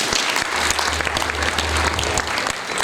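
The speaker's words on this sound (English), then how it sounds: "Let us give them a big round of applause," A forum audience at an investment event gives the organizers and technical teams a big round of applause, a loud, full burst of dense clapping throughout.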